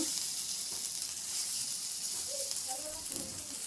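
Broccoli fries in a pan with a soft, continuous sizzle, fairly quiet, with a few faint clinks and stirring sounds toward the end.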